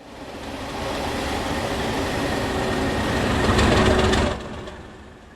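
Railtour train hauled by class 37 diesel locomotives 37670, 37671 and 37459 passing at Newington Town, a steady rumbling roar that swells slightly before dropping away, heard from trackside.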